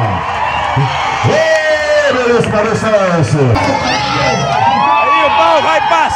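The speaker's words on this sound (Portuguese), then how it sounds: "Eu quero ver uma salva de palmas dos carregadores de Pão da Bandeira." A large festival crowd at the Pau da Bandeira celebration in Barbalha, Ceará, cheers and whoops loudly around the flagpole carriers, with voices shouting and talking over a dense, noisy hubbub.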